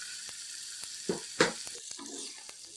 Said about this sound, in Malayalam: ഇങ്ങനെ ഫ്രൈ ആയിക്കൊണ്ടിരിക്കുന്നുണ്ട്.